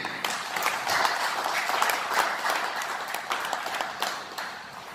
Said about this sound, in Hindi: आप सब उनके स्वागत में तालियां बजाएं